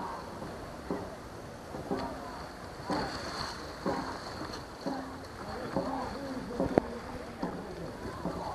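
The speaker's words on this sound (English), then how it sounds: "Hear the drum?" A dragon boat race drum pounds at a regular pace over water and wind noise on the Potomac River at a festival in Washington, DC, with crowd chatter around it, moderately distant.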